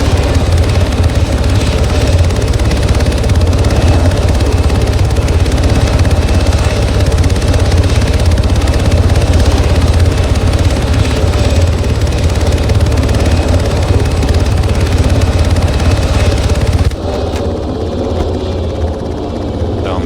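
An extraction helicopter in a video game arrives and lands, its rotor producing a loud, steady thumping roar that drops suddenly in level near the end.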